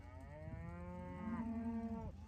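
A single long, low moo from a cow being herded on a farm, close by, drawn out for about two seconds and falling at the end.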